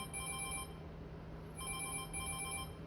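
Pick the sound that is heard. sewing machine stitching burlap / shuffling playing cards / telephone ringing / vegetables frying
telephone ringing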